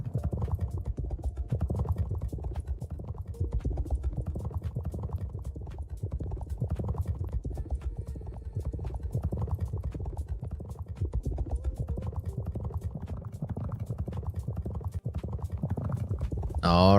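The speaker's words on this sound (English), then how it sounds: "Remember, spank that horse. It goes faster." Racing horses' hooves clip-clop in a fast, steady gallop rhythm throughout a horse-racing video game, loud and continuous with a voice briefly talking near the end.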